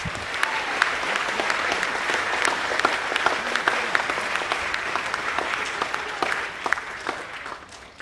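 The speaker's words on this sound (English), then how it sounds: "But can we give Ben and Jet another round of applause for coming in today?" Sustained audience applause fills a school academic awards assembly, a dense steady patter of many hands clapping throughout with a slight fade at the end.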